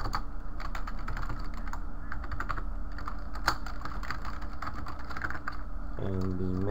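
Rapid, steady typing on a computer keyboard while entering a name into a contact form, the keystrokes close and continuous, with a brief musical tone rising near the end.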